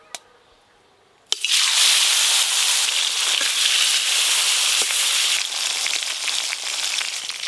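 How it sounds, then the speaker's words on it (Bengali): Fresh pond fish hit hot oil in a wok after a quiet pause, bursting into a loud, dense sizzle with sharp crackles that holds steady to the end. "এই যে মাছগুলো ভেজে নেব এবার।"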